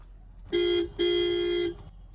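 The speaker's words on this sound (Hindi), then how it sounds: "dual horn" The dual horn of a 2022 Maruti Suzuki Brezza sounds twice, a short honk then a longer held blast, loud and close with a brief gap between.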